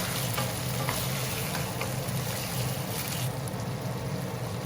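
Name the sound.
tomatoes and sauce frying and stirred in pan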